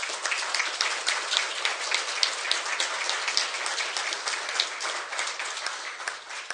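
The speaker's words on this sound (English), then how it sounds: "I would really appreciate it if all of you would give them a round of applause for me." A council chamber audience at an inaugural council meeting gives a round of applause for the speaker's family: dense, even clapping that stays steady throughout before thinning slightly at the end.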